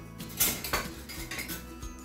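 Metal utensils clink and scrape against a pan while vegetables are spread over dough for a Mallorcan vegetable coca, a close series of irregular sharp clinks and scrapes.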